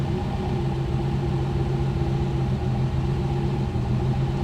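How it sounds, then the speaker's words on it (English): A 1969 Mercedes engine idles roughly and close by, a steady low rumble with a droning hum that wavers unevenly. "Now we got the wobbly idle."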